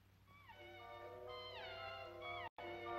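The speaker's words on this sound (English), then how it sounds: "How many kittens you seen there?" Several small kittens in a basket mew in overlapping high, thin cries, faint and continuous over a low background hum with a brief dropout, with no talking.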